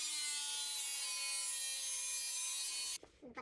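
A piece being cut out of a steel bullbar for an 80 series Toyota Landcruiser, producing a steady, loud, high-pitched grinding whine that stops abruptly near the end, followed by brief clatter.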